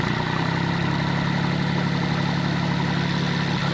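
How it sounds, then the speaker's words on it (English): An International Harvester tractor engine pulling a mower, running at a loud, steady, even drone with a constant low hum and no obvious rise or fall in revs, close by and with no voices. "Give us some gas. Give us some throttle. Better give us more throttle."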